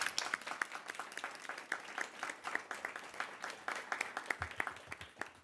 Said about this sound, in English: And Mary Beth and Sloan, you and your team deserve a big round of applause.